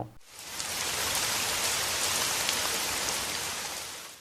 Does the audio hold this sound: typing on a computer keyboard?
no